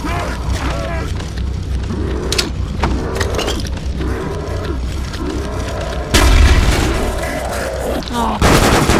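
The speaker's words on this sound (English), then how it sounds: "Oh, this is a worthless grenade." Grenade blast in Call of Duty Black Ops Zombies, round 7, a loud boom landing about two-thirds of the way through amid ongoing gunfire and game noise, with a player talking throughout.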